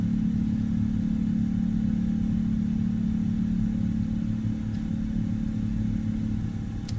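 Steady, loud low drone of a PMDG 777-200ER jet engine in Microsoft Flight Simulator 2024, a continuous rumbling hum with no variation and no voices over it.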